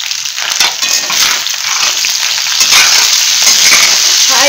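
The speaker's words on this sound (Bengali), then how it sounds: "প্রথমে পেঁয়াজ, অনিয়ন, জিঞ্জার, গার্লিক ক্লোভ সব কিছু দিয়ে আমি একবার নেড়ে নেব" Chopped onion, ginger and garlic cloves sizzle loudly in a pan over high flame, with a continuous bright hiss and the scrape of stirring, close up and with no talking.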